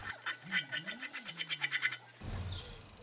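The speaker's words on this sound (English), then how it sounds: "I could then set about refining the edge of the blade on this axe head" A file or stone rasps in quick rhythmic strokes along the edge of a 1960s Brades axe head, about a dozen scraping passes in a row, then a softer rubbing noise to close.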